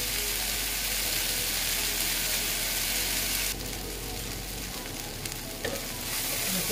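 Okra frying with turmeric in a pan, a loud, dense and continuous close sizzle that eases slightly partway through, with faint scraping and stirring and no voices.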